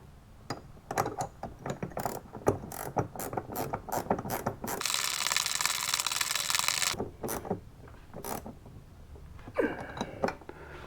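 Nylock nut and flat washer being tightened onto the transfer case shifter linkage of a Jeep XJ, heard as a run of close, sharp ratchet clicks in bursts with a sustained hiss-like stretch midway; no talking.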